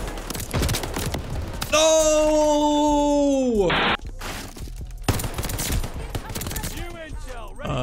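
Browning automatic rifle fire rings out in a Call of Duty Vanguard multiplayer match, with loud bursts of gunfire, a sustained tonal in-game sound effect, and a voice briefly speaking between the shots.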